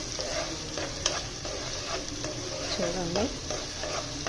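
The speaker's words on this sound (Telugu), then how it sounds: "ములక్కాయ ఫ్రై చేస్తున్నా, చూపిస్తాను." Drumstick pieces and onions sizzle steadily in a pan, with a continuous close frying hiss and a few soft stirring scrapes, and one brief spoken word over it.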